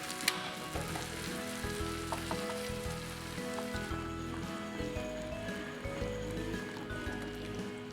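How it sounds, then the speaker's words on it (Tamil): Small onions and curry leaves sizzling in hot oil for a tomato chutney tempering, a steady dense frying crackle with scattered pops throughout, close and fairly loud with no talking. "நான் இன்றைக்கி தாளிப்புக்காக சின்ன வெங்காயம், கருவேப்பிலை சேர்த்துருக்கேன்."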